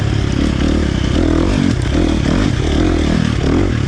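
A KTM 350 XC-F dirt bike with a tuned ECU runs hard in third gear, a loud, steady buzzing engine note that wavers slightly with throttle, close to the rider and with no speech.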